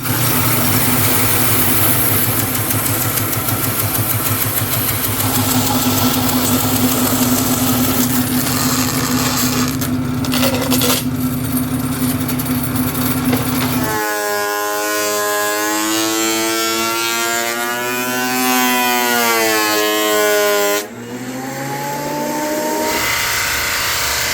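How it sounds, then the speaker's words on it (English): Bandsaw cutting wood for a cabinet base, a loud, close, steady high whine that shifts in tone partway through as the cut changes, with no talking. "Now we only have this much to do on the bandsaw."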